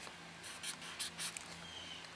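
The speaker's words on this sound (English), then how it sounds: "I'm still gonna take this Sharpie and write" A Sharpie marker squeaks and scratches in short strokes across the plastic lens of a Chevy headlight, a few soft close scribbles over low background hum.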